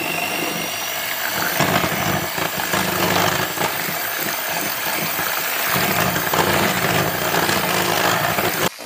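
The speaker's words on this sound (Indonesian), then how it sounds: "Sekarang aku mau kocok kuning telur." An electric mixer whisks egg yolks with powdered sugar in a bowl, a loud continuous whirring buzz with rattling beater scrapes, close and steady until it cuts off at the end.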